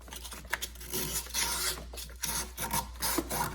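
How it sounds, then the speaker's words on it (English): Fine sandpaper scrapes a car battery terminal on a Toyota Highlander in quick, uneven back-and-forth rasping strokes, close and fairly loud, with no speech. "try to scrape it, then use this sandpaper. It's a fine sandpaper."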